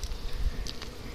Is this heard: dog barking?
no